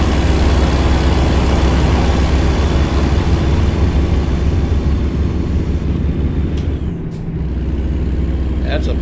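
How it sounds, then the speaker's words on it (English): A heavy truck's diesel engine drones loud and steady from inside the cab in American Truck Simulator, hauling 37,000 pounds of yogurt with the windows up, then briefly drops near the end with a short hiss. "That's a pretty loud truck."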